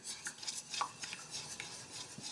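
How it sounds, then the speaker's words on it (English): Kefir being gently whisked into a vanilla bean panna cotta mixture in a bowl, a quiet run of light rhythmic clinks and scrapes of the whisk against the bowl, with no talking. "You're just gonna whisk that in gently"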